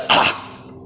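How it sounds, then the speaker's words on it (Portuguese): A single short, sharp throat clearing, or cough-like burst, sounds close and loud, then fades into quiet room tone. "ficar pigarreando"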